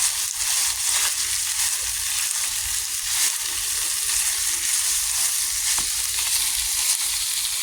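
Sirloin steak and onions sear in a hot pan with a steady, dense sizzle throughout, broad hissing crackle with occasional sharper pops, close and continuous with no talking.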